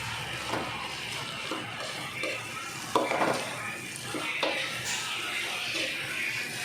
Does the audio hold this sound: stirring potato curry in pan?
yes